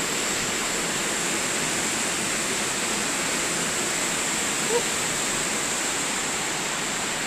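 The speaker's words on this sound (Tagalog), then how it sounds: "Nakakasok ang tubig, guys." Water rushes into the Tagabasi Dam as a steady, broad hiss and roar, like a continuous torrent, constant in level and unbroken for the whole stretch.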